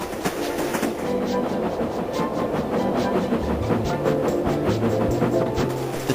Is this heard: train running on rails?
yes